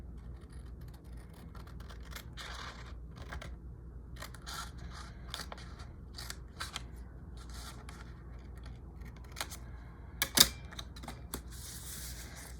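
Scissors snip through paper while trimming the excess from an origami folder, a series of quiet, sharp cuts scattered irregularly, close but soft.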